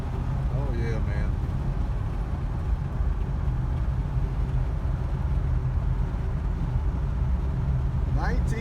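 A 1977 Ford LTD cruises along country roads near Lewisburg, North Carolina, its engine and road noise a steady low rumble heard from inside the car, with people talking over it.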